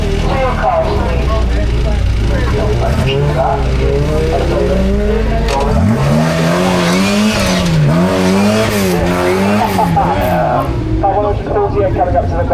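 A 1983 Austin competes at the Prescott speed hill climb, its engine revving and rising in pitch as it pulls away, loud and close, while a commentator talks over the PA throughout.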